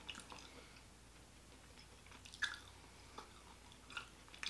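Someone chewing rose water flavored gum up close, soft wet smacks and squishes at an irregular rhythm over quiet background.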